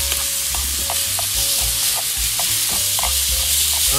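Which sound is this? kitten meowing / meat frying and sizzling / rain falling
meat frying and sizzling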